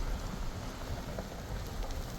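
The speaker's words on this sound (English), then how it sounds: "In the rain." Rain falling steadily at an outdoor migrant camp in Jacumba, California, a continuous dense hiss with gusting wind, close and even throughout, no voices.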